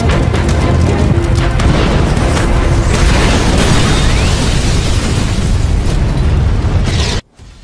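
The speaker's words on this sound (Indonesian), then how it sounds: "dan kapal itu pun meledak." A boat explodes as fire hits its fuel, a loud, sustained blast roaring with dense crackling and rumbling for about seven seconds, then cutting off abruptly.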